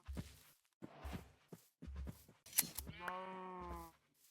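Sheep bleat in a video game: a wavering, harmonic bleat near the end of the clip, with several shorter bursts of game sounds before it. No one speaks.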